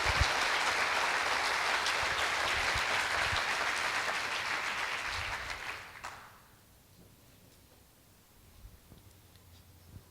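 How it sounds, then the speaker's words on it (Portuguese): A church congregation applauds loudly and continuously for about six seconds, a dense wash of clapping that then stops abruptly, leaving quiet room tone with a few faint rustles. "Vamos, aplauda ao Senhor."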